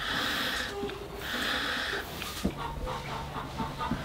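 Hens in egg-laying season cluck and squawk in bursts nearby, with drawn-out calls rising and falling over a low background hum.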